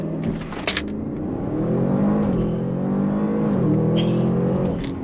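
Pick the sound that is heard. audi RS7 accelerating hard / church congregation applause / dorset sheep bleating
audi RS7 accelerating hard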